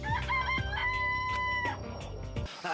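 Chickens cluck and a rooster crows in Danganronpa: Trigger Happy Havoc, the drawn-out crow ringing over busy clucking and faint thuds, loud and close, ending in sudden silence.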